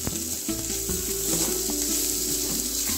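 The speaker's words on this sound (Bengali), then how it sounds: "দিয়ে আরেকটু নাড়াচাড়া করলাম" Ginger paste frying in a pan for Kashmiri pulao, with a loud continuous sizzle throughout and intermittent scraping knocks of a spoon stirring the paste, close up.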